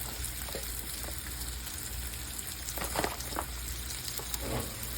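Onions frying on a griddle for fried onion burgers, a steady dense sizzle with crackling pops running throughout, close and fairly loud with no talk.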